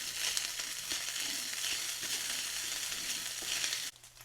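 Day-old rice being stirred with Spam tocino in a frying pan gives a steady, close, hissing sizzle with faint scraping, running on its own until it cuts off abruptly near the end.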